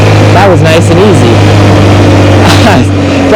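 A retro Honda scooter engine pulling away through busy traffic, a loud steady buzzing drone that climbs in pitch, with voices talking over it.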